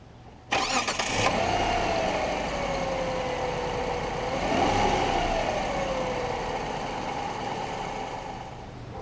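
A 2005 Kia Sedona engine cranks and catches with a sharp burst, then settles into a steady, fairly loud idle with one brief rev partway through, heard up close with no talking.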